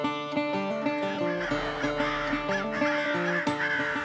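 Crows caw repeatedly in harsh, overlapping calls during a crow hunt on a wildlife management area, fairly loud and close, with no speech.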